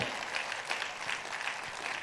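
Church congregation applauding during an Indonesian revival sermon, a steady, dense wash of clapping from many hands that holds evenly for the whole stretch, moderately distant.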